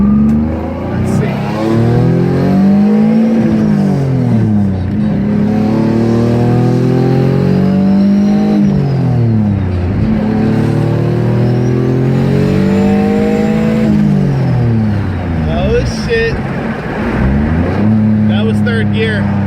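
Car with a VQ35 engine pulling hard in third gear, engine note rising and falling through repeated revs with loud exhaust drone, close from inside the cabin; someone talks briefly over it.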